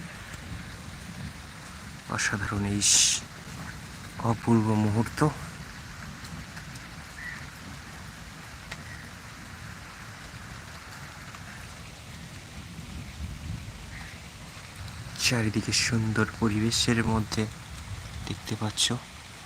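Rain after the summer heat patters in a continuous soft wash, while a voice talks in bursts over it and quieter stretches let the rainfall stand alone.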